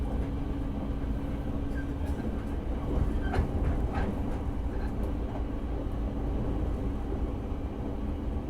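Inside a Japanese express train rolling over rails, a steady low rumble fills the car, with faint rhythmic clicks and soft rattles from the wheels and carriage running throughout.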